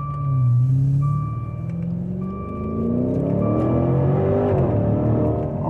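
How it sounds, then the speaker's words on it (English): A Maserati Levante SUV with a hand-built Ferrari V8 revs and accelerates from inside the cabin, the engine note rising in pitch through gears, with a repeating electronic chime beeping intermittently over it. "They got Ferrari engines in these Maseratis."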